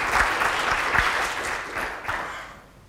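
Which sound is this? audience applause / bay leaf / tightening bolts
audience applause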